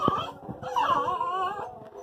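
A dog whimpers and yips in short, strained bursts, fairly close, with a low growly edge and no talking.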